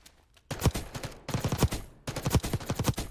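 Video game gunfire in three rapid bursts of shots, close and loud, each burst a quick rattling string of reports with short gaps between.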